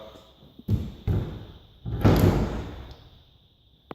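Newly hung French doors swing shut in a house, producing a few solid wooden thuds and one louder closing knock with a short rattle, close by and with no talk.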